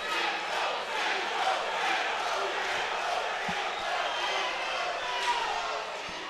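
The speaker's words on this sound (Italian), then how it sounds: "la maggior parte inneggiano a Mirko Ricci" Packed boxing arena crowd in Rome roaring and chanting for the home fighter during the final round of a European Union title bout, a dense, steady wall of cheering with occasional sharp thumps.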